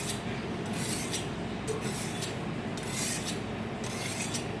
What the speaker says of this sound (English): Then we use the steel and we hone our knife